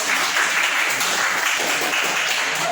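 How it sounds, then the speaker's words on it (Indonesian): A classroom group claps hands together during an ice-breaking activity, a dense, continuous patter of many hands at moderate loudness throughout, without distinct voices. "Ya, tepuk tangan dulu."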